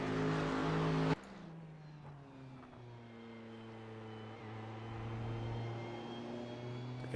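A race car at Daytona drones loudly, then the sound drops to a steadier, quieter engine hum with slowly gliding pitch, as if heard from trackside or onboard on a slow out lap.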